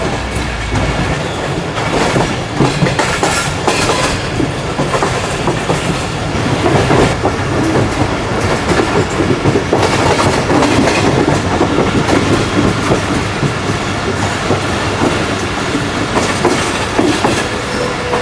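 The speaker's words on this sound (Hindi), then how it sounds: "मलिया रेलवे स्टेशन पर अप्रोच बना रही है ट्रेन हमारी इस वक्त।" The Karakoram Express passenger train runs on rails on its Karachi to Rohri journey, giving loud, continuous rumbling with rhythmic clickety-clack wheel beats close by and no voices.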